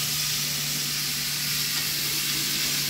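Steady, dense sizzle of pumpkin frying in a pan for a Bengali pumpkin ghonto with fish bones, cooked without onion or garlic; a loud continuous hiss close up, with no talking.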